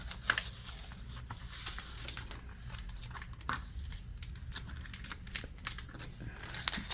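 PS GlitterFlex Ultra transfer material is weeded and peeled off by hand, giving a faint, continuous crinkling and crackling with small ticks and tears close by.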